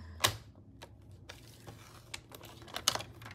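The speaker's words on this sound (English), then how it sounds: "So let's just score this at 1 inch" A few sharp, brisk scoring strokes are drawn across folio card stock at a one-inch mark. Each short scrape is separated by quieter rustling and tapping, all close by and fairly soft.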